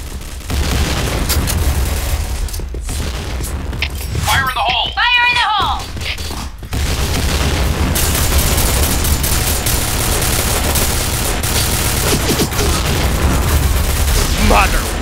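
Grenade explosions go off in a shooting video game, loud, dense booms mixed with bursts of gunfire that run almost without a break, while a person shouts over the action.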